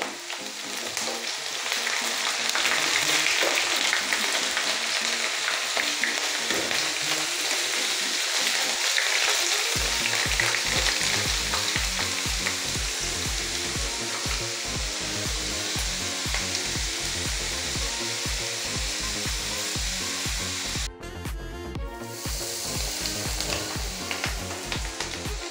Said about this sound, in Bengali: এবার আমি অল্প অল্প করে এগুলো তেলে ছেড়ে ভেজে নেব, গ্যাসটা লো ফ্লেম করে